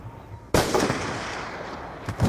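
A sharp gunshot cracks out in the Black Ops 2 video game, followed by a sustained noisy rumble, with a second shot near the end.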